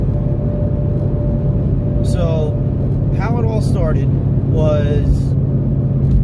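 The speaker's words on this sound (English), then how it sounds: "I don't have mufflers on this car and it's probably pretty drony" A steady low engine drone from a 5.0 car running without mufflers hums loudly and continuously inside the cabin, underneath someone talking.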